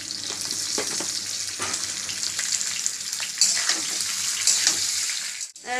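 Loud, continuous sizzling of raw mango pieces frying in hot oil with salt and turmeric, with occasional stirring clinks and a brief scrape near the end.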